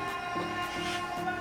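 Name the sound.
alarm going off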